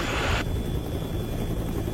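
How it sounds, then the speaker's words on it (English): A helicopter's rotors churn steadily while it flies over the erupting Mount Pinatubo volcano, making a continuous, fairly loud broadband roar that fills the clip with no voices. "Its rotors churn the air and confuse the detection instruments."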